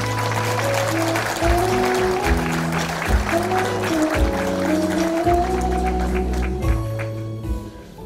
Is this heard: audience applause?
yes